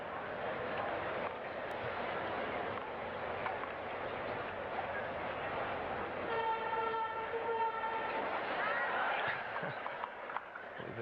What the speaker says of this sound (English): That was the number 7 train pulling out of the Willets Point Shea Stadium station.